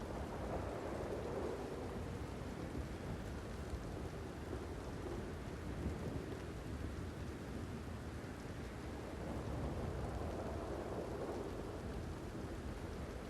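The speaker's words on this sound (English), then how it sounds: "I want to believe that the rain's letting up." Steady rain and rolling thunder in the video game Red Dead Redemption 2, a dense, continuous broadband downpour with low rumbles underneath, unbroken throughout and with no voices.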